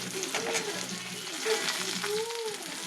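Tomato drops into a pan of fried onions and sizzles in a steady, close frying hiss, with a voice talking over it throughout.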